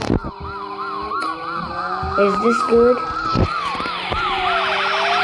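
A police car siren wails in a car crash video game, looping up-and-down tones over engine noise and tyre skids, while a person talks briefly.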